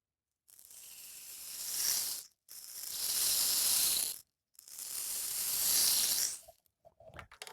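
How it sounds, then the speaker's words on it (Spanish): Three long, soft rushing sweeps of pattering grains, each swelling over a couple of seconds with short pauses between, like a small rain stick tipped back and forth. "o un palo de lluvia. Este es chiquito."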